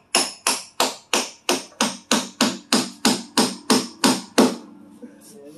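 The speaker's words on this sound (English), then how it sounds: "And he's got to tap it with the hammer." A hammer taps metal piano-moving equipment while a baby grand piano is moved: about thirteen evenly spaced, sharp, ringing blows, close and loud, then the tapping stops and a faint rustle follows.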